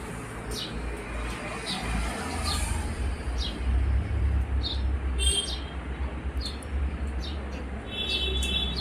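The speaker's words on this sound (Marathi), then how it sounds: "सकाळी सकाळी मस्त आवाज देतात ते खारुताई." A squirrel in a chikoo tree calls in the morning with sharp, high chirps in short repeated bursts, over a steady low outdoor hum and faint background activity.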